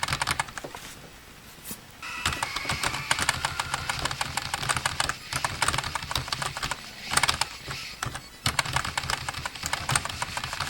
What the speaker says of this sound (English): So I'm playing with my keyboard.